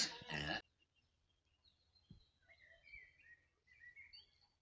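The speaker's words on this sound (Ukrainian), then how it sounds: "Нібито як то навіть і соловей співає." A nightingale sings at night in spring in a rural farmyard, a faint, distant series of whistled and chirping phrases over quiet low background hum, after a brief voice at the start.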